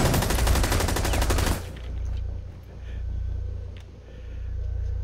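Rapid automatic gunfire in Rainbow Six Siege, a fast, loud burst of closely spaced shots for about a second and a half, then cutting off to a low humming background with faint distant noises.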